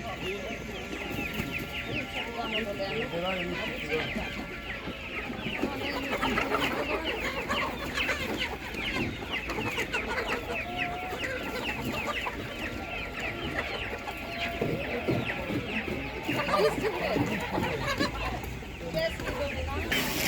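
Chickens clucking at a village animal market in Bratkivtsi, a steady mix of nearby clucks and calls with a rooster crowing now and then, over a background of people talking.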